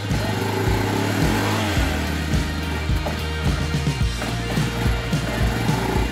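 A 16-year-old Suzuki Eiger 400 Quadrunner ATV engine idles after a fresh start with no throttle applied, giving a steady, close, low rumbling putter with even pulses and no voices.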